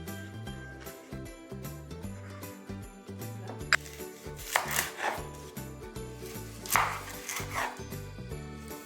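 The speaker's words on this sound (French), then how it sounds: "Je tente de couper aussi les oignons" A knife chops onions on a cutting board in a steady, rapid rhythm of close taps. A few sharper clinks and faint background sounds come through between them.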